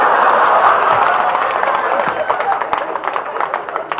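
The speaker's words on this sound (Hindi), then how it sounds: "आपको अच्छा लगे तो तालियां चाहूंगा" Enthusiastic audience clapping and cheering at a Haryanvi comedy poetry gathering (hasya kavi sammelan), loud dense applause that gradually thins and tapers over a few seconds.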